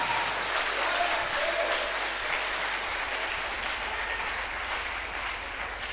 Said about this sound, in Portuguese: Pode dar uma salva de palmas ao Senhor.